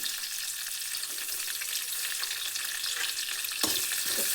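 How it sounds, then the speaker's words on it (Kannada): Green chillies and curry leaves fry in hot oil with mustard seeds and cumin, a steady bright sizzle that swells into a louder crackling burst near the end, no voices. "ಮೆಣಸು ಸ್ವಲ್ಪ ಎಣ್ಣೆಗೆ ಫ್ರೈ ಆಗಲಿ."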